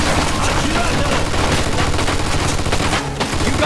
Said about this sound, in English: Looks like we found a machine gun.